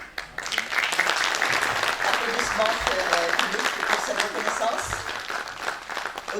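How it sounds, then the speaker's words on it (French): An audience at a francophone sports conference opening ceremony breaks into sustained applause, a dense, even clatter of many hands close by with voices murmuring beneath it. "Applaudissements pour cette reconnaissance."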